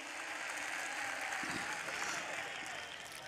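Sustained clapping from an audience at a mushaira poetry gathering in Mumbra, Mumbai, a dense, even wash of applause that continues throughout, somewhat distant and moderately loud.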